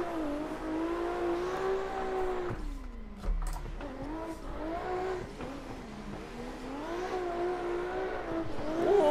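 Race cars, including a Supra, drift in tandem through a wall-ride course in the Assetto Corsa video game. High, strained engines rev and bounce up and down continuously, with a brief tire-squeal burst midway.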